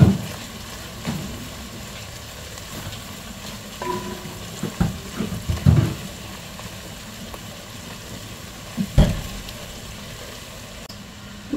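Garlic frying for a creamy carbonara, with a soft, steady sizzle and occasional stirring clatters in the pan, close and fairly quiet.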